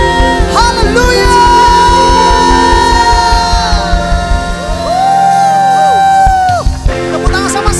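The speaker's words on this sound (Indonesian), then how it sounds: "Tepuk tangan yang terbaik. Sorakan haleluya." A church congregation at a Sunday service claps and cheers hallelujah, loud rhythmic clapping with whoops and shouts over sustained music, a crowd close and lively for the whole stretch.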